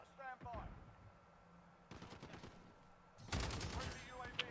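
Rapid bursts of automatic gunfire in a Call of Duty Modern Warfare multiplayer match, loud and close with short pauses between volleys, and a voice briefly heard at the start.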